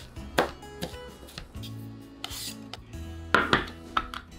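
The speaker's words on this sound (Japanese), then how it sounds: "大葉も千切りします。" A kitchen knife slices shiso (perilla) leaves into thin strips on a cutting board, a few sharp, separate chops and scraping rubs spaced irregularly, close and clear with no talk.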